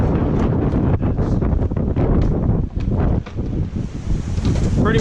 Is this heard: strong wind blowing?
yes